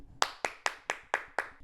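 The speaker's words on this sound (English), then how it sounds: "I also want to give a round of applause to Joshua Neal" Slow, deliberate hand claps for an actor, six sharp, close claps evenly spaced about a quarter second apart, with nothing else heard.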